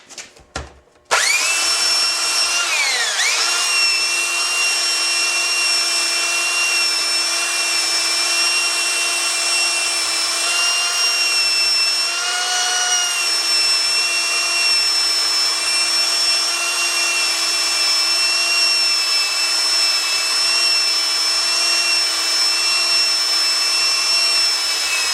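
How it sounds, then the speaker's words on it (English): A power sander grinds steadily on an acoustic guitar bridge saddle held in a vise, a loud, sustained high whine with a small pitch dip near the start, running unbroken for over twenty seconds after a brief knock. "we got to flatten this out now, right down until the sander hits the vise"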